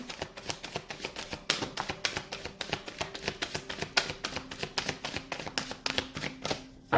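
Rapid riffling of playing cards being shuffled, repeated bursts of crisp flicking at a quick, even rhythm, close and alone.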